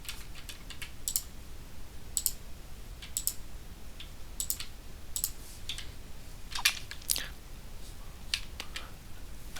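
Sharp computer mouse clicks land in an irregular run of short, crisp taps over a steady background hiss while someone works through Azure Data Factory settings on screen; a voice talks faintly underneath.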